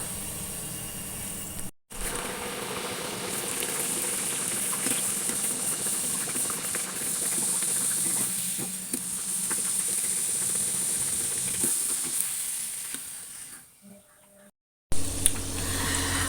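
Filled poori deep-frying in hot oil gives a steady, close bubbling hiss that runs almost throughout, broken by a couple of brief gaps and a sharp burst near the end.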